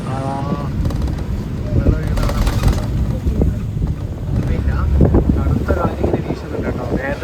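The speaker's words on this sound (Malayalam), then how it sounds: "ഇപ്പം തണുത്ത കാറ്റിങ്ങനെ വീശി തുടങ്ങിയിട്ടുണ്ട്" Gusty, cool wind buffets the microphone in a continuous rumbling roar in Vattavada, Kerala, with a person talking intermittently underneath.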